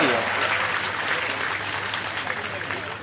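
Crowd applause welcoming politician Shivraj Singh Chouhan at a BJP campaign rally, a dense sustained roar of clapping from a large audience, steady and fairly loud throughout.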